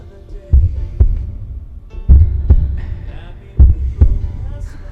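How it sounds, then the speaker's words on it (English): Slow, heavy heartbeats thump loud and close, each a low double pulse, over a steady low hum with no talking. "You can hear their heartbeats."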